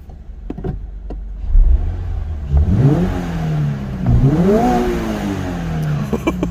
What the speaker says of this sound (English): And we're gonna give the first little revs.